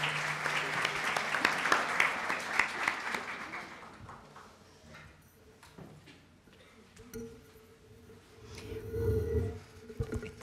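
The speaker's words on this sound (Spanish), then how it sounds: "un gran aplauso" A seminar audience claps warmly for a few seconds, then the applause fades out into a quiet room with faint murmurs and a low hum at the end.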